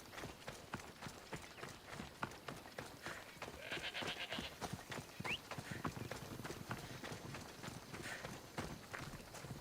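Rapid hoofbeats clip-clop steadily throughout, a galloping horse close by, over a busy layer of game sounds with no speech.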